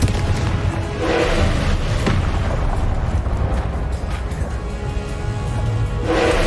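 A Confringo fire spell in Hogwarts Legacy erupts in a dense, sustained booming roar of blasts and crackle, loud and close throughout with swells near the start and end.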